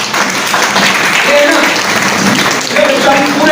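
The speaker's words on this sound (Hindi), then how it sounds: "एक बार इसके ताली बजाइए" Audience clapping for housewives at a motivational business seminar, a steady dense wash of applause that carries through the whole stretch, with crowd voices mixed in.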